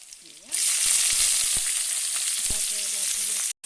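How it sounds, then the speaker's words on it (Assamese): Bitter gourd fries in a pan with onion and hot chillies. Loud, close sizzling starts abruptly after a brief pause, continues steadily with light stirring clinks and scrapes, then cuts off near the end. "মই বনাই আছোঁ তিতা কেৰেলাৰ ভাজি। ইয়াত দিলোঁ পিঁয়াজ আৰু জলকীয়া।"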